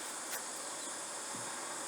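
Bees buzzing at the entrance of a busy summer beehive, a continuous close, dense droning hum with no gaps.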